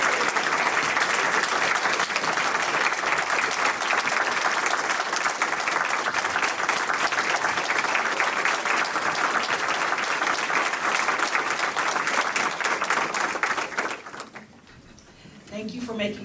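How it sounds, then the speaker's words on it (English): An audience at a public library panel claps in a sustained, full round of applause that holds strongly and then fades out near the end. "Can we give a round of applause to our panel?"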